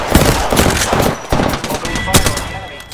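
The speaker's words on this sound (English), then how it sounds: "Opening fire on the enemy." Rapid automatic gunfire in Apex Legends, dense overlapping shots in continuous bursts, loud and close, with brief pauses between volleys.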